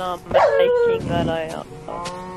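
A Minecraft dog barks a few times in quick succession, close and clear, while a person talks excitedly over it.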